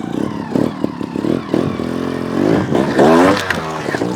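GasGas TXT 300 trials motorcycle working over rocks, its engine blipping and revving in short uneven bursts close by, with scraping of tyres on stone.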